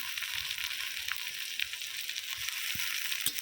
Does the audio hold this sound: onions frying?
yes